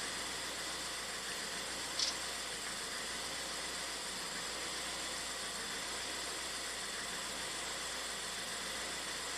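A Ford EcoBoost engine idling with a surging fault, a steady broadband engine hum and hiss running throughout with little change, and one faint brief click near the start.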